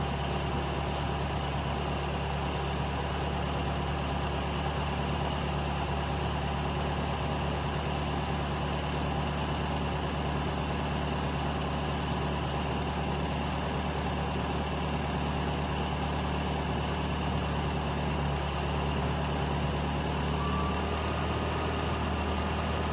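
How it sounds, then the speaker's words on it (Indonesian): CNG-converted car engine idling steadily while the gas regulator pressure is adjusted, a constant low rumble with an even tone throughout, close and moderately loud, no talking. "Suara mesin tambah stabil."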